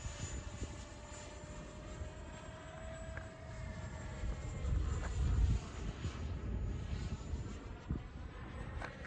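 An FMS 70mm Viper RC jet makes a low pass, its thin whining turbine tone sweeping steadily across, fairly faint and distant against the open-air background.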